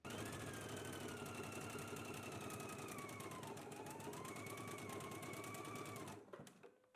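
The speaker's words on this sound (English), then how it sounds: "I'm going to go ahead and pin and stitch both of the side seams." A sewing machine runs steadily, stitching the side seams of a toddler garment in one continuous, close, loud whir with no talk, then stops abruptly near the end, leaving brief handling sounds.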